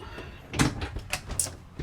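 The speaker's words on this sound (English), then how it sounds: "Your refrigerator is hidden also behind a door." Cabinet door concealing the refrigerator in a 2026 Airstream Frank Lloyd Wright 28RBT travel trailer, opened with a few soft close clicks and thumps, quiet and near.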